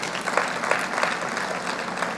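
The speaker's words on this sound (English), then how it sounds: "A big round of applause to the school band" A school annual day audience applauds the school band with steady, dense clapping that holds at an even level for the whole stretch, with no voices over it.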